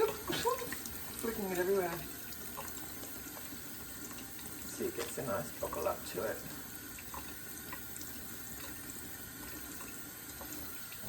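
Tap water runs and splashes while lather from a handmade rose cold-process soap is rinsed away, a close, steady wash heard beneath a person talking.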